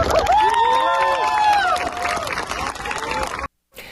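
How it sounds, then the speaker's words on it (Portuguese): Applause rises from a crowd at an event honoring a secretariat, with clapping mixed with cheering and a prominent whistling or wavering voice above, then cutting off abruptly near the end. "Ao nosso secretariado eu peço uma salva de palmas também"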